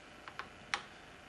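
A few quiet keystrokes on an Apple II keyboard, three light clicks in quick succession, close but faint against a low room hum.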